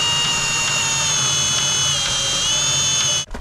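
A high-torque power drill drives the crank of a GEN-Y Mega-Duty 32k drop hitch jack, a loud, steady whining motor with a metallic mechanical hum that cuts off abruptly at the end.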